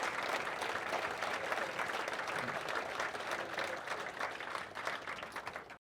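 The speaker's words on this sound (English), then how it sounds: "So a big round of applause for Stacey, but also for Lincoln" Audience applauding at an academy awards evening, a steady dense wash of many hands clapping at close range for the whole stretch, with no talk over it.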